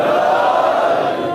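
A mosque congregation in Gilgit answers a Naara-e-Haidari slogan call at a religious majlis gathering, many voices shouting together in a loud, sustained crowd roar.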